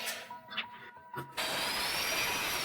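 A high-speed drill fitted with a homemade mixing attachment over 30 years old churns screed for a DIY floor. After a few quiet knocks, it starts abruptly and keeps up a loud, steady whirring roar.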